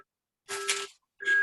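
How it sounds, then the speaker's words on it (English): A doorbell rings indoors as two short, steady electronic tones, faint and set apart by a brief gap, with no talk over them. "somebody's got their doorbells ringing."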